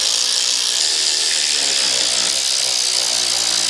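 A power tool tightens the clutch pressure plate bolts during a flywheel and clutch install, giving a steady, loud high-pitched whirring buzz throughout with no speech.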